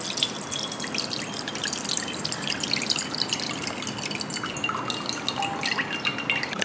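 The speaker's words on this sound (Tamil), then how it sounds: "இந்த அரிசியை கழுவும் போது நல்லா கையில் அரிசியை நல்லா அழுத்தி விட்டு நம்ம கழுவணும்" Rice is washed by hand in a bowl of water, giving steady close-up sloshing, trickling and gentle splashing as the grains are pressed and stirred, with no voices.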